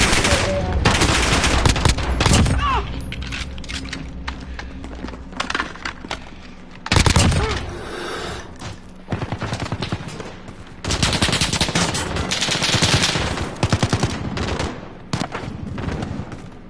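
Commando AK gunfire in Call of Duty, with repeated rapid automatic bursts broken by short pauses, loud and close, and some faint talk between the volleys.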